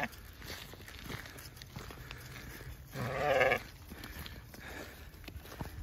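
Sheep bleat in a short loud burst partway through, amid quiet outdoor rustling and footsteps on pasture ground.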